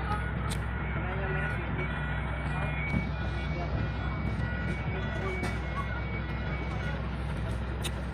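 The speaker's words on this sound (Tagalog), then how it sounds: "Kaya pumarada na yung mga truck." Trucks parking at a port site beside a blue ship, with steady engine rumble and a continuous backdrop of reversing beeps and machinery, close and dense throughout.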